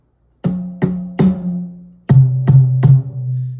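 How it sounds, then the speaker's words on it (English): A high tom on a drum kit struck six times, three hits then three more at a slightly lower pitch, each a close resonant boomy thud ringing out between strokes, with no other sound. "This one is called a high tom or a tom-tom."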